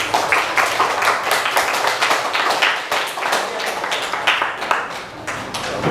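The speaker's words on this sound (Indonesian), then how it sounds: "Tepuk tangan" A group claps hands in rhythm in sharp, evenly spaced bursts, loud and close, with quick patterned beats repeating throughout.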